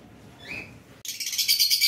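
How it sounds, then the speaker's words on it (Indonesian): Falk birds and lovebirds in an aviary send out a brief call, then a dense burst of high, rapid chirping and chattering that carries on steadily. "Ada beberapa pasang burung falak dan juga lovebird."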